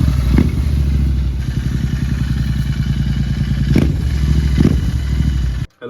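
A Royal Enfield Interceptor 650 motorcycle idles or runs nearby with a steady, loud, thumping twin-cylinder beat and a few clattering knocks, then cuts off abruptly at the end.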